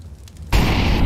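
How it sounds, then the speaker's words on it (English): A Molotov grenade bursts in Counter-Strike: Global Offensive, a sudden loud whoosh of igniting fire after a quiet moment, then a dense crackling roar that holds close and steady. "Molotov."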